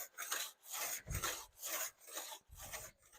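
Sanding bumps smooth on a metal part for a Zenith CH 750 CruZer aircraft build, a close rhythmic back-and-forth rasping of about six strokes, steady and fairly quiet, with no talking.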